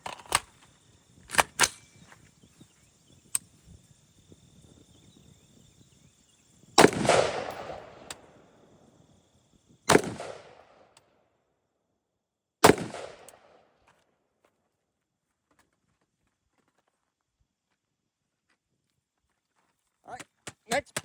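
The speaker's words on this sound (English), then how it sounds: "First 3 shots." A pistol is fired at a target outdoors with a Holosun ARO sight. Three loud, sharp reports ring out several seconds apart, each trailing a brief echo, and quieter clicks and handling noises come before and after them.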